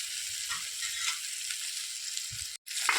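Vegetable pieces for village-style sambar sizzling in hot oil, a steady close frying hiss with a few soft stirring knocks and one brief dropout near the end; no talking.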